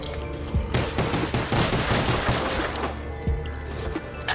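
Rapid sustained bursts from an RPK machine gun in Call of Duty Zombies, loud and close, with a dense chattering stream of shots and short gaps between bursts.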